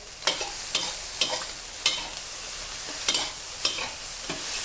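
Fried rice is stir-fried in a pan, with a regular run of spatula scrapes and tosses against the metal, each followed by a quick sizzle, repeating roughly every half second at close range.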